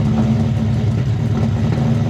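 An untuned Ford Coyote V8 idles steadily, a loud, slightly uneven low rumble with a faint high whine running over it, close by and without talk.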